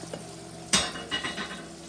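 Baked beans cooking in a pan, giving a soft sizzle with one sharp stir or scrape and a few lighter follow-up scrapes, fairly quiet and close.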